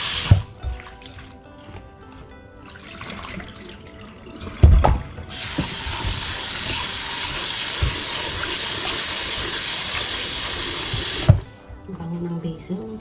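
Tap water gushing steadily into a sink while freshly harvested basil leaves are rinsed indoors, loud and close for several seconds, bracketed by clinks and handling noises and a voice at the start and end.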